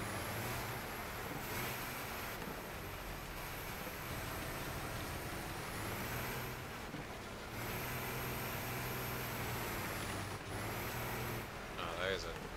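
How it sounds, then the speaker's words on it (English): A stuck school bus at a figure-8 race keeps its engine revving in a steady, droning roar with air-brake-like hisses. The sound is fairly distant and sits under continuous crowd and track noise. "there's a dead or stuck school bus there. Big. Sounded like it was still revving, it's just stuck."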